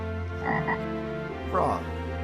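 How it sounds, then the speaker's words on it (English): A frog croaks in two close bursts, a short double call followed by a longer, rougher croak after a pause, over a steady low hum. "frog"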